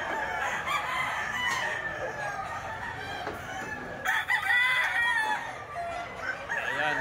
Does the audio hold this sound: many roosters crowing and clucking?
yes